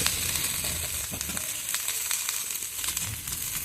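Chopped tomato sizzles in a hot frying pan while Maggi noodle masala is being cooked, a steady close crackling fry with scattered pops and stirring scrapes, no talk.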